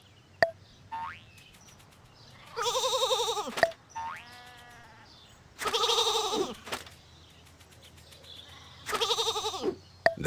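Sheep near Bethlehem bleat three times, in loud, close, wavering cries evenly spaced across the quiet, with softer faint bleats heard between them.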